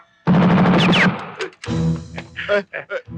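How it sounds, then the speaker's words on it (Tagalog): Outdoor gunfire from target practice rattles off in a loud, rapid burst lasting under a second, followed by someone speaking in Filipino amid lower rumbling. "Ano putok sa labas?"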